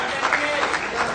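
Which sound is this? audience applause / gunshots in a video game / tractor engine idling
audience applause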